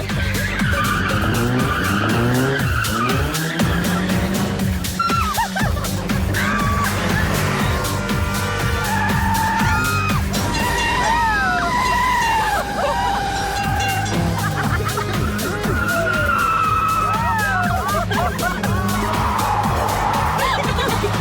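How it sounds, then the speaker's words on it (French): Car drifting on a track, tires skidding and squealing in long wavering screeches over a loud continuous engine roar, sustained for about twenty seconds with a faint crowd murmur underneath. "Il est temps de sortir ma technique de drift"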